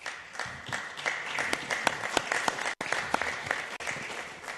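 Audience applause at a city council meeting: scattered, moderately sparse hand claps from a small room crowd, steady and fairly quiet, with a couple of brief dropouts.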